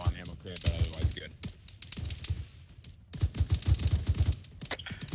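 Rapid gunfire rattles through a gunfight in quick, uneven bursts of sharp cracks, close and fairly loud, with voices talking in between.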